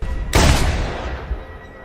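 A single pistol shot rings out in a film scene, a sharp, loud crack that bursts suddenly and decays into a lingering reverberant rumble.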